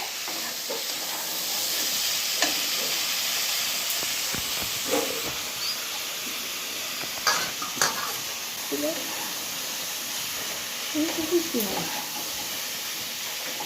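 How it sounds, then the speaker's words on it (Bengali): Katla fish egg ball curry cooking in a pan hisses and sizzles steadily while a spoon stirs it, with soft scrapes and knocks recurring against the pan as someone speaks in between. "ভালো করে আবারও নেড়ে চেড়ে নেব।"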